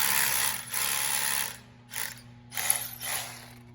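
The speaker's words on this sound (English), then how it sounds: "We're gonna start drilling and putting in our anchors." A power drill whirs in several short bursts separated by brief pauses, drilling anchor holes close by, over a faint steady mechanical hum.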